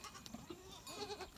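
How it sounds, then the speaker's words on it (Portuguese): A young Boer breeding buck on a farm gives several short, close bleats in quick succession against a quiet outdoor background. "Tá aqui o boé, bode boé reprodutor novo aqui do plantel."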